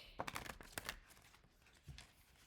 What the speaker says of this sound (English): I hate shuffling this deck